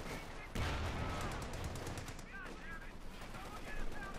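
Machine gun fire crackles through a Company of Heroes 2 battle, with a loud burst starting early and continuing as sustained rattling under distant battle noise and a commentator's voice.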